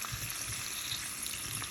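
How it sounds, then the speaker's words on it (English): Cherry tomatoes fry in a hot pan with a steady, close, crackling sizzle that stays even throughout, with no talking. "So now I'm adding the tomatoes, cherry tomatoes"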